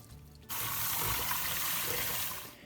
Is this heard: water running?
yes